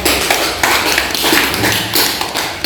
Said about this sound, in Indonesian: Kasih aplaus untuk kita semua.